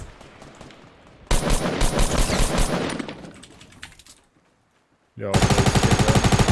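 Several players fire at once in a Fortnite Battle Royale fight: loud, rapid bursts of gunfire, one clattering volley that fades, a short lull, then another fast burst, with a brief spoken exclamation.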